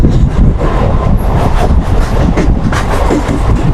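A local train between Durgapur and Bardhaman runs fast at night, heard from inside the carriage as a loud continuous rumble with rhythmic wheel clatter and no talking.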